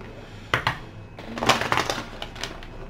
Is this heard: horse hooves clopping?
no